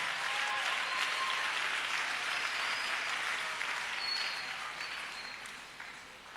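A congregation applauding during a worship service at a church in Abidjan, a broad wash of clapping from a crowd, steady at first and gradually fading toward the end, without speech.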